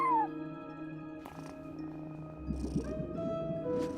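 A cat at a front desk in Genshin Impact gives a few short meows over a steady game background, with no one talking.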